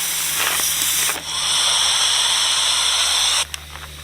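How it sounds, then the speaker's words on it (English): Off-road vehicle tire deflating through an open valve with the cap removed, giving a loud, steady rush of hissing air that breaks briefly, resumes strongly for about two seconds, then cuts off abruptly, with no speech. "What you were hearing was air was starting to release out of it because I had the valve open."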